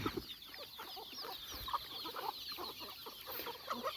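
Chickens cluck and peck around at close range in a village yard, a steady stream of short, faint calls over quiet ambient noise.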